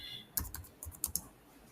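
Keys tapped on a computer keyboard while entering text in a Word document, a quick irregular run of close, crisp clicks with short pauses between bursts and no talking.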